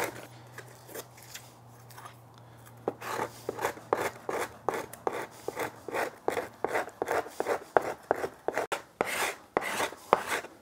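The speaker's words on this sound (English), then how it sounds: "that way I can use a cabinet scraper" Cabinet scraper working a burl wood veneer held in a tail vise: a run of short, rhythmic rasping strokes, close and crisp, picking up after a quiet start and repeating steadily with no talking.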